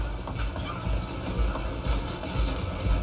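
Steady rumble and clanking of a train in Red Dead Redemption 2, with rhythmic mechanical knocks and rattling wheels, loud and continuous without pause.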